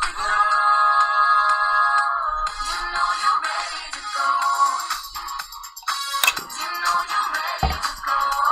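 A phone chimes through a run of text message notification tones, bright electronic beeps repeating over several seconds amid a steady musical background.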